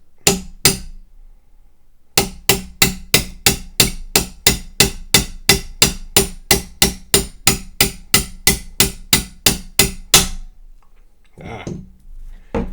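A ball peen hammer strikes a pin punch to drift a pin out of an old rifle, two taps then a steady run of about twenty sharp metallic blows, close and loud, ending in quiet.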